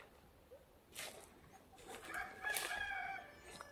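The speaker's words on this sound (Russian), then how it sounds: "Петухи у нас что-то кукарекают к ночи." A distant rooster crows toward nightfall, the call faint and drawn out, with a second rooster's crow overlapping near the end against quiet vegetable-garden background.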